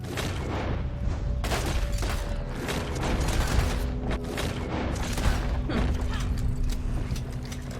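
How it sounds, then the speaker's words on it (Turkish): Gunfire crackles during a shootout in the Red Dead Online video game, with rapid overlapping shots and booms mixed with mechanical clatter, dense and loud throughout and without talk. "yolda oyalandık çatışma yaşadık"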